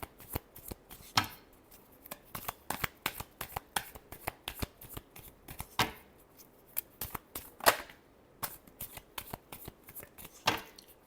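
Tarot cards being shuffled by hand in a rapid, uneven series of crisp riffling snaps and taps, close and fairly quiet, with no talk over them.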